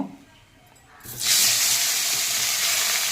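Fish head frying in hot oil: after a second of quiet, a loud, steady sizzle and hiss bursts up close and holds without a break.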